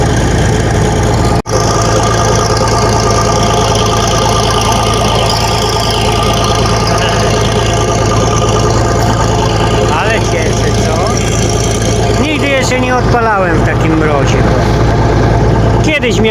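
A heavy diesel engine of a Bizon combine harvester idles steadily up close after a cold start in frost, a constant low rumbling drone with a brief knock early on and faint chirps later.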